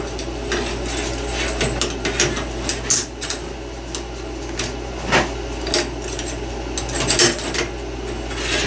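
A saw blade is worked into a tooth setter with metallic clicks, ratcheting and scraping clanks over a steady low hum, the knocks coming irregularly and fairly close.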